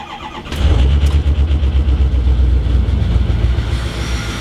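Diesel bus engine cranks briefly and catches after three glow plug cycles, then settles into a loud, rough, steady idle close by.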